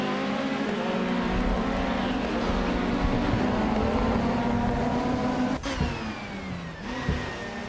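Racing video game with a 1999 Nissan Primera P11: a loud, continuous engine drone holds steady throughout, with a couple of quick pitch drops as it shifts or lifts off near the end.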